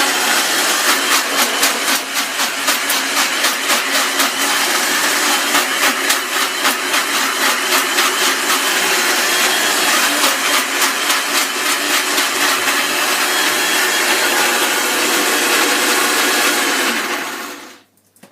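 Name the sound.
kitchen blender running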